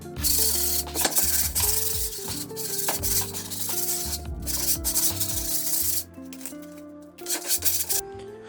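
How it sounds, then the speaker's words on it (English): Sandpaper rubs hard against skateboard grip tape in loud, close, rhythmic strokes, with brief pauses between passes and no talking. "now we need to take a piece of grip tape that we just cut it off and sand the grip tape down"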